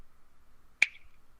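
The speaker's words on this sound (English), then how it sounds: "It took me so long to learn how to snap." A single crisp finger snap, made as a sync cue backstage at a music festival, sharp and close against a quiet room.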